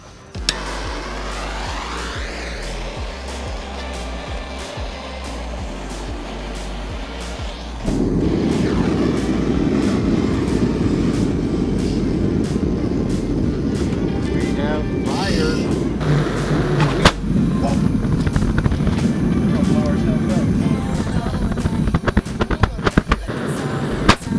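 A gas forge burner roars steadily like a jet engine in a workshop where beater bars are being hardened, a loud broadband rush that surges to full strength partway through, with people talking over it.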